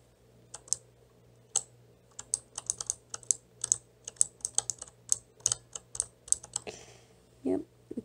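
Keys clacking on a backlit gaming keyboard in a home gaming setup, a quick irregular run of close, crisp strokes, then a short louder burst at the end, over a low steady hum.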